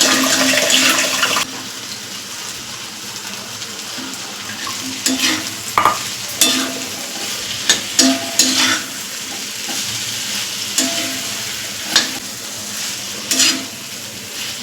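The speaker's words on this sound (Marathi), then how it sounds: "हे बघा भाज्या भाजत भाजत आहे" Eggplant and potato pieces fry in a pan for a spicy Marathi dried bombil dish, a continuous soft sizzle close by punctuated by repeated scraping and clattering stirs of a spoon against the pan, with no talking.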